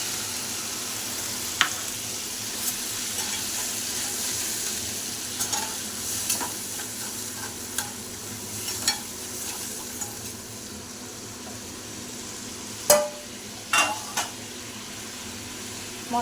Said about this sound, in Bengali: মশলাটা এবারে ভালো করে কষতে দেব।